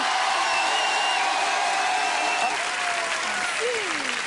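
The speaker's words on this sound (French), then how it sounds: "Applaudissements, mesdames, messieurs, pour Carla Bruni." A crowd applauds Carla Bruni, continuous loud clapping filling the whole stretch, with a faint whistling tone gliding through it.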